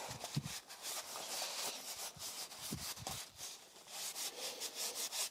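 Paper rubbing and wiping over Harley-Davidson Street Rod 750 motorcycle parts doused in brake cleaner during a service, a steady close scrubbing rasp with brief pauses, no voices.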